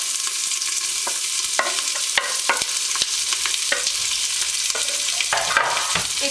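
Onions sauté in about four tablespoons of warmed oil for Greek-style green beans, a steady close sizzle broken by scraping stirs and clinks from the pan.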